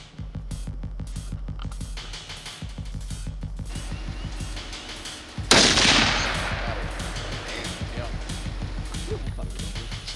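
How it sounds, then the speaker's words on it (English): A single loud .308 rifle shot fired at a hog during a Louisiana hunt bursts out near the middle, followed by a decaying echo over steady mechanical rattling background. "Ed got on the 308 and made quick work, taking a good shot on that hog."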